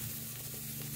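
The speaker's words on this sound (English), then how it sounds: "I'll give it a quick saute." Brussels sprouts sautéing in a hot pan give a steady, close sizzle for one short moment, with an even hiss and no voices.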